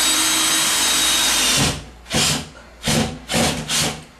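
A power drill drives a coarse-thread screw through a drywall patch into wood framing: a long continuous whirring run, then four short bursts of the motor starting and stopping, close and loud.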